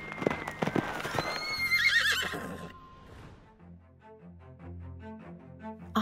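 A horse whinnies loudly as a sound effect in a children's read-aloud about riding in on a big white horse, a rising shrill neigh followed by softer musical notes.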